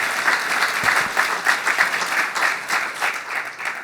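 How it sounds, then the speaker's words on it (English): A conference audience applauds a speaker taking the stage at a DevOps Days event, a dense, steady round of clapping from a large crowd that holds for the whole stretch with no talk over it. "Please give him a huge round of applause."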